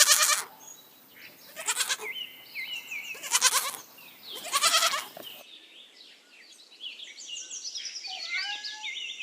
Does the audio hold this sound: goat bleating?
yes